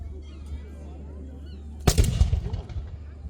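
A musket fired by a grenadier in a historical demonstration at Fort George: one loud blast partway through, followed by a short rumbling echo over steady background hum and crowd noise.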